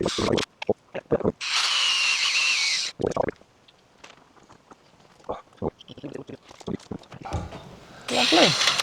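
A power drill fitted with a new Bosch bit bores into wood on a West Wales homestead, with two loud bursts of whirring drilling, one longer and one at the end, amid clunks, handling noises and scattered talk.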